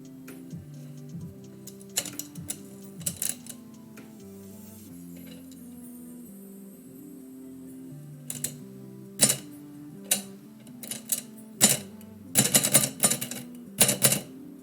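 Keys of a typewriter struck in bursts of sharp clacks while typing live poetry in a cave, with irregular pauses between runs and steady tonal music playing underneath.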